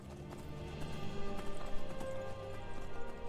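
Horse hooves clip-clopping at a steady gallop while riding in Skyrim, a rapid repeating beat of hoofbeats over layered game music and ambience, moderately loud throughout.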